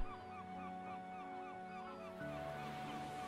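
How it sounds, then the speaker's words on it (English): Seagulls call over a beach, a series of faint, repeated cries heard against a steady tonal background that shifts partway through. "Listen to the seagulls calling as they fly around in the sky."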